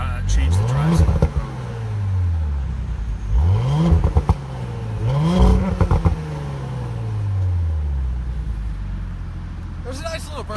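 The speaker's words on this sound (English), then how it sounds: "There's a nice little burble from Overrun. It's not super loud." A 2018 Audi S5 on a test drive rumbles and burbles from the exhaust on overrun, with several rising and falling engine swells at moderate volume while a person talks over it.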